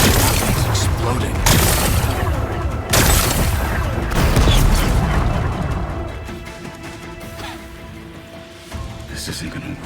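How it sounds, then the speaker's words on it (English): Heavy explosions in Horizon Forbidden West blast away rocks to expose a power cell, with several loud booms and crashing debris that fade into rumbling while voices talk over them. "It's exploding."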